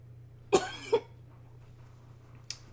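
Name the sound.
cough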